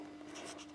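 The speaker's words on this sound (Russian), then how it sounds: "Я беру вот такой, у меня есть малярный скотч. Я пишу, что здесь у меня посажено." Marker pen scratching across a strip of masking tape to label a pot of osteospermum seedlings, a faint, short run of soft scribbling strokes with no talking.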